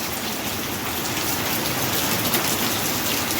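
Heavy rain pours down in a dense, steady roar, unbroken throughout with no letup.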